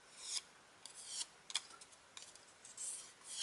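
A bone folder rubs and scrapes along a punched paper piece for a card holder, giving a gentle curl in short, close, dry rasping strokes with brief pauses between them.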